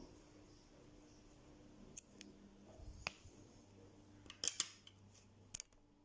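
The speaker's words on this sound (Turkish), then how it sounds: "Şuraya ipimi kesiyorum" Scissors snip thread after a double knot is tied in Turkish needle lace, giving a few sharp, close, quiet clicks spread over several seconds with no talking.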